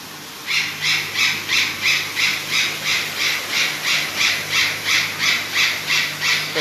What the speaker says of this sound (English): so that's our Eclectus parrot